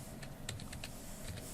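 A computer keyboard is typed on to enter a command on an Ubuntu system. The soft, close key taps come in a quick irregular burst over faint background hiss.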